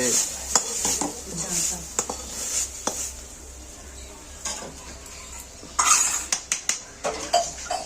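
Fried leafy greens being stirred and lifted from a pan with a metal utensil: repeated scraping and clinking of cookware, with soft sizzling underneath, close and moderately loud, irregular bursts.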